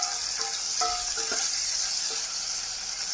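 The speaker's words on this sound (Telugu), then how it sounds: "ఇప్పుడు పచ్చిమిర్చి వేసుకున్నాం. ఇలా వేగేటప్పుడు అవి కూడా బాగా వేగుతాయి అన్నమాట." Green chillies frying in hot oil in a pan, a steady loud sizzle throughout with a few scraping stirs near the start, no talking.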